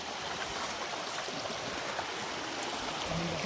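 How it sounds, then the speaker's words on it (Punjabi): Floodwater about two feet deep flowing over a paved village road, a steady broadband rushing wash like a stream, continuous and fairly close. "ਸੜਕ ਦੇ ਉੱਤੇ ਡੇਢ ਦੋ ਦੋ ਫੁੱਟ ਪਾਣੀ ਚੱਲ ਰਿਹਾ"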